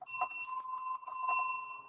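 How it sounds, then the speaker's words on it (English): A bell rings with a bright, sustained metallic tone, struck a few times and left to hum and decay, close and alone with no talk. "Listen, I have my bell tonight"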